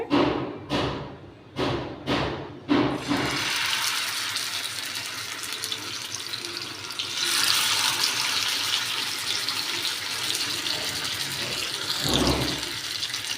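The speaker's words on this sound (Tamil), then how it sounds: "எண்ணெய் நல்லா சூடாகுதில்லை இப்போ நம்ம மசால் தடவி வச்சோம்ல இந்த ஃபிஷ் ஆட் பண்ணிக்கோங்க" Masala-coated fish pieces drop into hot oil in an iron kadai with several dull thumps, then a continuous close, loud sizzle and crackle of frying swells and carries on steadily.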